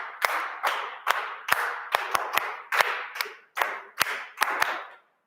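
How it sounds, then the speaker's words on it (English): A class claps a rhythmic pattern that begins on an upbeat, with a dozen or so sharp, close hand claps in regular groups. The claps are crisp and evenly spaced, with brief pauses between phrases. "So let's clap like this."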